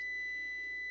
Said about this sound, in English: Turn off your timer.